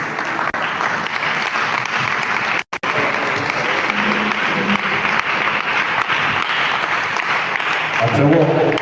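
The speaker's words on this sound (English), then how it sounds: "Continue clapping for the president." A seminar audience keeps clapping steadily for the president, a thick wash of applause that continues for several seconds with a momentary break, as voices speak over it.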